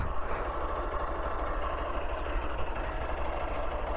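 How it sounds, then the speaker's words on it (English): A Honda Unicorn motorcycle engine idles close by, a smooth, even low rumble with a fast steady pulse and no talking. "Just hear out the smoothness for this engine"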